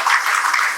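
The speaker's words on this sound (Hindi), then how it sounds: "तालियों से इस्तकबाल करिए बच्ची का।" Audience at a school felicitation award ceremony claps briefly, a short loud burst of dense applause.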